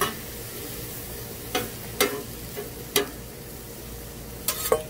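Steak sizzles on a Blackstone griddle, a steady close hiss broken by a few sharp scraping taps from a spatula.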